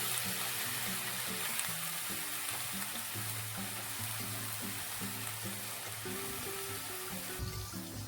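Chopped pointed gourd and potatoes with turmeric sizzle in hot oil in a pan, a steady, even crackling fry that continues throughout with no talk.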